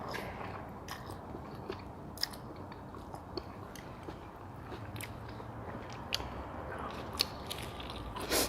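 Someone eats thin rice noodles with fried garlic up close, with soft wet chewing and slurping broken by sharp, irregular crunchy bites over about eight seconds, and no talking.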